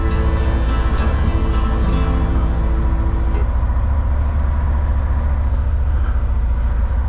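A motorcycle engine idling steadily just after being started, a loud, close, continuous low rumble with an even throbbing pulse throughout and no voices over it.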